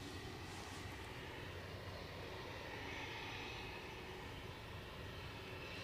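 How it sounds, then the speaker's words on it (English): An Embraer ERJ jet coming in on approach to Aberdeen airport gives a steady, broadband engine roar that holds evenly throughout, distant and fairly faint, with no voices over it. "So we've got an ERJ from Birmingham coming your way."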